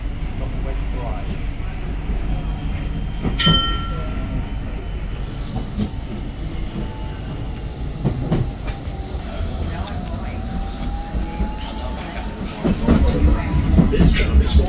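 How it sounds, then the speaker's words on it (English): A tram running between stops on the Fleetwood line rumbles and clatters steadily over the rails, with a brief squeal and a rising whine partway through, growing louder toward the end. "This tram is for Fleetwood Ferry."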